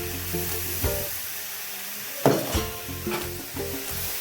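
Tomatoes sizzle in a pan for a Kerala-style shakshouka while a spoon stirs and scrapes them, the frying hiss steady and close with a few sharper clanks of the utensil.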